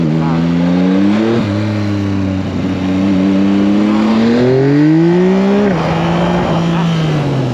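Yamaha MT-09 Y-AMT motorcycle with automatic gearbox ridden in sport mode above 6,000 rpm, engine revving loudly and climbing in pitch with quick gear shifts dropping the tone several times, close and continuous.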